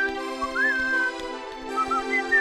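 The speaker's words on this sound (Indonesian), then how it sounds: "Dia sedang sibuk melumuri minyak ke businya dan sambil bersiul." A tin man from a children's fairy tale cartoon whistles a wavering, lilting tune while oiling his joints, playing over a sustained musical backdrop with short breaks between phrases.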